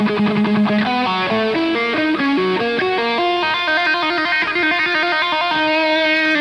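Electric guitar pull-offs to open strings played slower, a steady distorted run of clearly separated descending note patterns repeating over about six seconds, loud and alone without talk.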